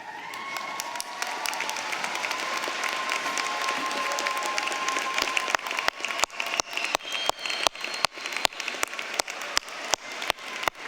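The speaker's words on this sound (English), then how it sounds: "Graduates, I invite you now to stand, turn, and applaud in thanks those who have supported you, both here in this hall and online." A graduation audience in a hall applauds. Steady, dense clapping swells at first, then thins into scattered individual claps toward the end, with no speech.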